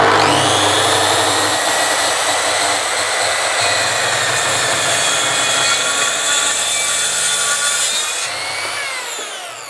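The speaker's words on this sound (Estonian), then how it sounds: "Nii, alustan, panen tööle ja hakkan saagima." A Mafell circular saw running along a guide rail cuts through a wooden plank, a loud, steady high-pitched whine holding for about eight seconds before the blade spins down near the end.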